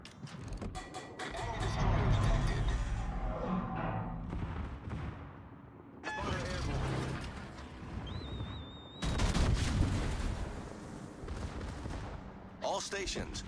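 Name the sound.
ship guns firing at the Amalfi, from World of Warships video game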